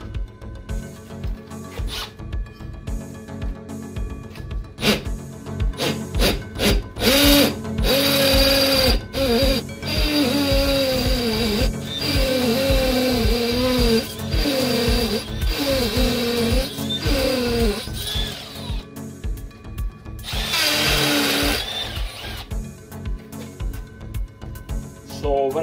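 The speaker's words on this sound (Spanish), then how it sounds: "vamos a ver cuál potencia tiene el taladrillo este. Lo ponemos en percutor" A power drill set to hammer mode runs in bursts, giving a loud, rapid percussive rattle with pauses between runs, used in a home workshop while building ferret dens.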